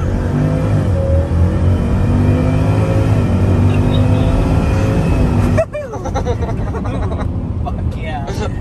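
A Ford F-150 pickup in four-wheel-drive high and sport mode revs hard through a launch, a loud steady engine drone with rising harmonics, then cutting sharply to a rougher, quieter rumble near the end.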